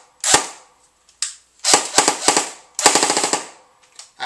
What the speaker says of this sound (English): the gun sounds and shoots with the same rate of fire